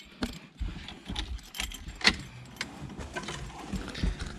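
Keys jangle in the ignition of a 1985 Pontiac Fiero, then the engine cranks with a few uneven mechanical bursts at close range.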